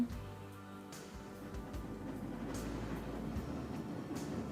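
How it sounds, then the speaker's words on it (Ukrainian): Tram rolling along rails through a city square, a steady low rumble with faint rail clatter throughout and no voices. "Трамвай дзеленчить, і під колесами м'яко виблискує рейка пам'ять старого маршруту."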